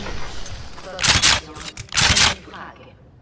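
Two loud, sharp blasts from a pump shotgun in Fortnite go off about a second apart, each followed by a brief decay, over quiet game ambience.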